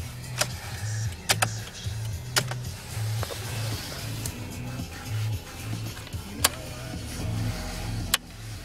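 A 2004 Pontiac Vibe's hazard flasher clicks in a steady, regular rhythm over a low engine idle after a January cold start, with a few sharper ticks scattered throughout.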